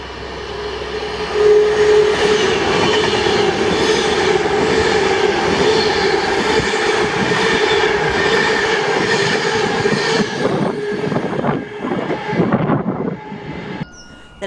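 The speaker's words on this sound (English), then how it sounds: "the 1454 Virgin train service to London Euston from Glasgow Central." A Virgin passenger train from Glasgow Central to London Euston rushes past close by, a loud sustained roar with rhythmic wheel clatter and faint squeal, fading away near the end.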